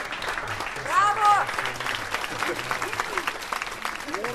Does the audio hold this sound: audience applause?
yes